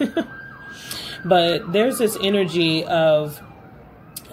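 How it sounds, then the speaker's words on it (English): A siren wails faintly in the distance beneath a person talking, its tone rising and falling steadily throughout. "sorry for the sirens,"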